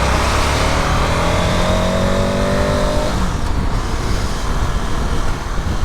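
A 2022 KTM 1290 Super Adventure S motorcycle under way, its engine note droning loudly with steady harmonic tones that shift pitch for about three seconds, then settling into rough broadband wind and road roar with no talk.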